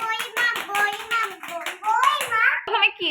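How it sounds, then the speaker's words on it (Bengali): Children clap their hands loudly in a quick, rapid rhythm during a fun game, with a voice talking over the clapping toward the end. "একবার সবাই জোরে হাততালি দিয়ে দাও"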